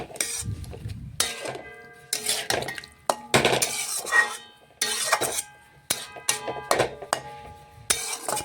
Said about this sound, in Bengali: এখন আমি এঁচড় সেদ্ধ করে তুলে রেখেছিলাম সেটা দিয়ে দিলাম। মশলার সাথে ভালোভাবে মিশিয়ে আবারও কিছুক্ষণ আমি এঁচড় রান্না করে নেব।